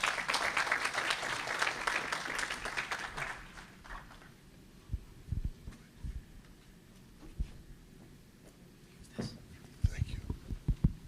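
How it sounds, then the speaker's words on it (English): An evening audience at an on-stage conversation greets two guests with a short round of applause. The clapping fades after a few seconds into scattered thumps, footsteps and quiet voices. "Huge round of applause"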